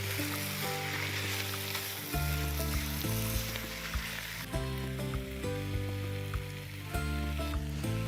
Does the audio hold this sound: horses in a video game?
no